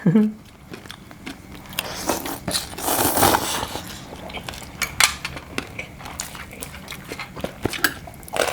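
Crispy pork leg in a spicy Thai tam sua salad sprinkled with kratin is bitten and chewed up close, giving irregular sharp crunches and smacking bites between quieter pauses.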